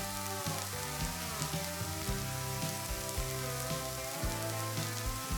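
Chicken breasts freshly flipped in a frying pan sizzle steadily and crackle with scattered pops, close and continuous, over soft background music and with no talking.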